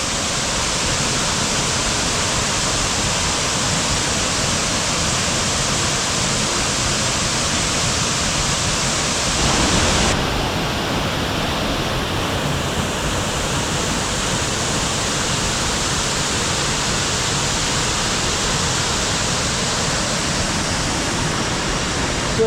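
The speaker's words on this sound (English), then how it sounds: "More of a contained waterfall." A steady, loud rush of falling water from Hin Lad Falls on Koh Samui, Thailand, fills the whole stretch, with a slight shift in tone partway through and no voices.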